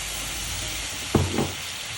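Apples with sugar and maple syrup sizzle softly in a pan, a low steady hiss broken by a brief scrape of stirring near the middle.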